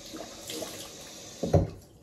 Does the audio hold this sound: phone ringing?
no